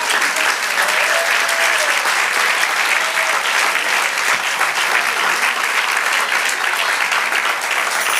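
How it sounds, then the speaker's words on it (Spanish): Church congregation applauding together, a steady dense wash of clapping held at full level from start to finish with no voices rising above it. "de un aplauso al Señor."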